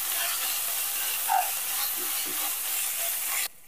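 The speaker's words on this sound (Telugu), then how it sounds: "అల్లం వెల్లుల్లి పేస్ట్ కూడా పచ్చివాసన పోయేదాకా వేయించుకోవాలండి" Ginger garlic paste fries in a pan while cooking menthi kura rice, giving a steady, close hiss and sizzle with a faint stir, before cutting off abruptly.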